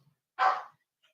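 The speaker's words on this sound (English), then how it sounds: "You can probably hear my dog down there." A single short dog bark rings out at a distance, from somewhere below in a house, sharp and alone after a moment of silence.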